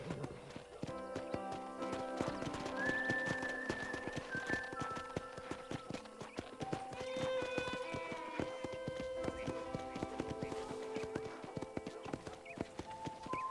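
Horse hooves clip-clop steadily on a ranch in Red Dead Redemption, a continuous rhythmic walking gait heard close up under background music, with occasional faint voices.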